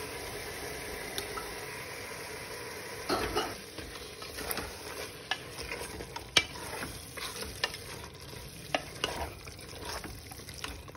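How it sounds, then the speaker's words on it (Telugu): Marinated chicken sizzles steadily in a hot pan for green chicken pulao, with intermittent scraping and clinking as it is stirred; no one speaks. "ఇప్పుడు మ్యారినేషన్ చేసుకున్న చికెన్ వేయాలి"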